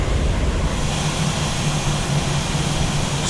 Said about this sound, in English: Engines back to idle.